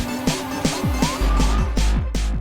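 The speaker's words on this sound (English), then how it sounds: "We wanted to cut some laps too, so we jumped into Ab's wild Corolla and headed around the cruising strip." A modified Toyota Corolla cruising the strip at Summernats, loud and close, its engine revving in repeated sharp bursts with gear-change drops and a brief tyre squeal.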